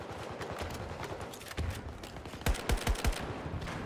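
A short cluster of sharp gunshots in the video game Battlefield 2042, a few scattered reports followed by a rapid run of four or five louder, punchy shots over a busy background rumble.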